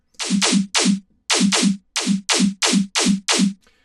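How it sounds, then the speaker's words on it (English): Clap snare sample in a melodic dubstep production, triggered in a rhythmic pattern of about ten sharp, bright hits with short gaps, crisp and dry with nothing else playing. "it looks like I just use a clap snare."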